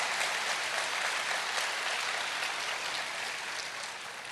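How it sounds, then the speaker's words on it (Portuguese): An audience at a church gathering applauds with dense, sustained clapping, fairly loud and even. The clapping thins slightly toward the end. "Pode aplaudir, porque Ele merece"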